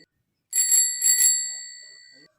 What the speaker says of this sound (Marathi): सायकलचा आवाज सायकलच्या घंटीचा आवाज ऐका